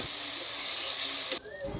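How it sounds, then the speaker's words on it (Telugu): Dried fish mixed with masala hits a hot tempering of onions and spices, and a loud, close hiss of steam and sizzle bursts up. It holds for about a second and a half, then suddenly drops to a quieter crackle. "ఎండు మెత్తాలని ఈ పోపులో వేసుకొని బాగా కలుపుకోవాలి"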